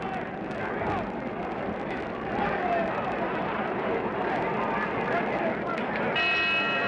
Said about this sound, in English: Bell for the end of round one.